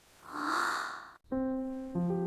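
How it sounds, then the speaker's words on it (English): A person yawns at home in the morning, a soft breathy inhale rising and falling, followed by a brief tonal hum. "I yawn a lot."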